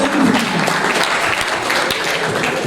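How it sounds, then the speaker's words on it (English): An audience at a political parties dialogue gives a big round of applause, loud, dense clapping that holds steady and close for its whole length. "Let's give them a big round of applause."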